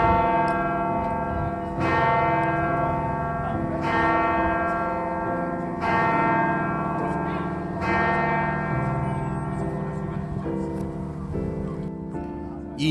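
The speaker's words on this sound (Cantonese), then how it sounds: "現場嘅鐘聲都幾大嘅" Church bells ringing at St. Peter's Basilica in the Vatican, heard from the rooftop terrace, their loud resonant strikes sounding about every two seconds over a layered sustained hum while voices talk faintly in the background.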